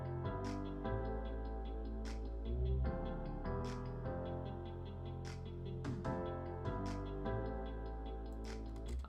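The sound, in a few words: future bass beat with sub bass, reversed muted guitar and snaps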